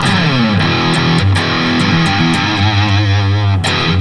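Heavily distorted electric guitar through an Eleven Rack amp modeler, Charvel So-Cal guitar, with a thick, saturated tone, chugging low notes and sustained chords, loud and continuous with no voices.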